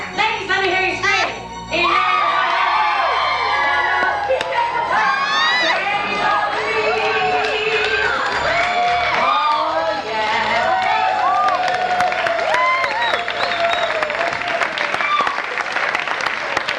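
A cabaret audience of women screams, whoops and cheers over loud sustained applause, a dense, continuous roar of many voices that carries on throughout.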